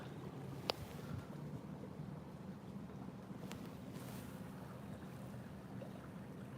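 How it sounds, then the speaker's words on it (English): Polluted water running steadily at night, heard on an outdoor midnight walk as a continuous broadband rush with a windy edge and no talking. "I'm just listening to this beautiful polluted water running."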